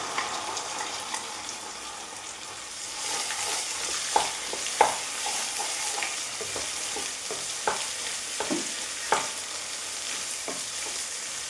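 Ginger, onion and coconut paste going into a hot pan for an Onam ginger curry, a sizzle that swells after a few seconds, with stirring clicks and knocks through the steady frying.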